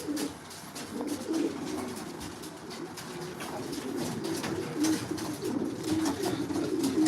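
Steady layered cooing from several racing pigeons close by in a loft at feeding time, a continuous low burbling chorus with no talking.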